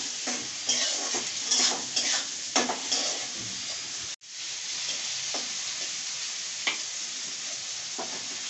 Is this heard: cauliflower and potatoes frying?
yes